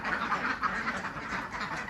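A flock of laying ducks quacks in busy, overlapping bursts, a steady nasal chatter from several birds at moderate distance with no voices over it.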